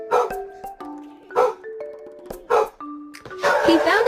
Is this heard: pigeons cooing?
no